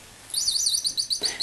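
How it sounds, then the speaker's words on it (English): A small magnetic toy bird gives a quick run of high, bright electronic tweets, close and alone, repeating in a short chirping pattern. "This is a little bird. It tweets every so often, periodically"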